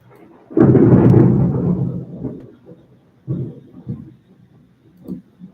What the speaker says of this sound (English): You can hear the lightnings and the sound of that thunder.